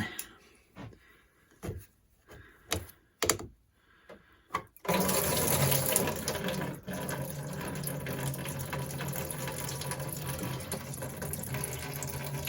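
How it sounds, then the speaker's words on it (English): Coolant water draining from a Peugeot Speedfight 4 scooter into a tub: a few scattered knocks and handling sounds, then a steady, loud splashing rush of liquid pouring continuously. "Don't know how much water will actually come out."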